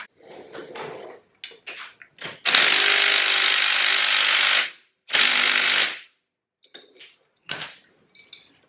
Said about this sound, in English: basically I need to take this bolt off so I can put the stator back in